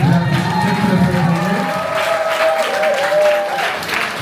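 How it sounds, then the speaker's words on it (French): Wedding dinner guests clap together in a sustained burst of applause that fades slightly, while a host's voice and crowd murmur carry on beneath. "applaudissez d'abord pour vous-même, s'il vous plaît"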